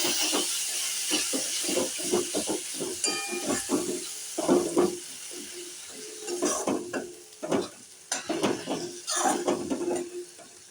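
Chilli, coriander and cumin powders fry in a pan of partly boiled potatoes for a fish curry. Irregular sizzling bursts and the scrape of stirring repeat up close, and no one speaks.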